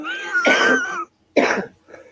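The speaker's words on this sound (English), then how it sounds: "I'm having a coughing fit." Two harsh coughs close to the microphone, a longer rasping one followed by a short burst after a brief pause.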